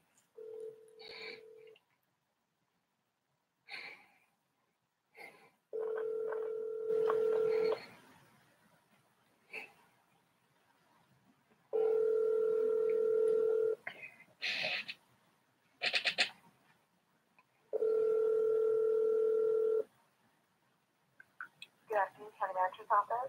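A telephone being dialed: bursts of touch-tone keypad beeps alternate with long steady dial or ring tones, with quiet pauses between them and brief handling noises.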